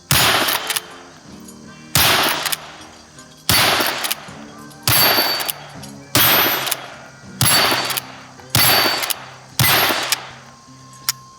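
A Henry .22 Magnum rimfire small game carbine fires about eight loud, sharp shots outdoors, evenly spaced roughly every one and a half seconds, each crack trailing off in a short echoing decay.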